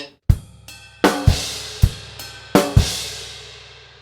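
Drum kit groove with hard accented hits, part of a Grade 3 Trinity College London drum piece: sharp kick and cymbal crashes land at irregular accents over about four seconds, each ringing out and decaying, loud and close with no talking.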